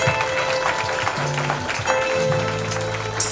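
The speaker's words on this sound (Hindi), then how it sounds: "हम जोरदार ताली बजाएंगे" Applause at a youth praise and worship meeting, a sustained wash of clapping with tonal sounds and voices running underneath, fairly loud and even.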